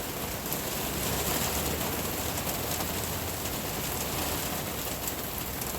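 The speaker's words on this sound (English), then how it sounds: "Love a good rainstorm." Steady rainstorm pouring down, a dense continuous hiss of rain on surfaces, loud and unbroken throughout with no voices.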